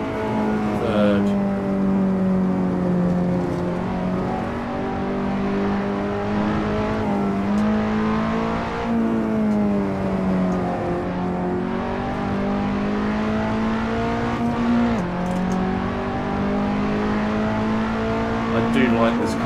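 A race car engine in the Assetto Corsa driving game holds a loud, steady drone whose pitch dips and climbs with gear changes and throttle, with someone talking over it.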